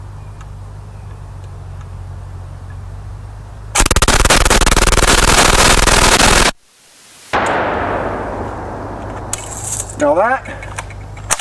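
Yugo 53 rifle converted to 7.62x39mm, fired outdoors. A loud sustained burst of rapid shots cuts off sharply, then echoes and decays, with a few mechanical clinks and a short spoken phrase afterward.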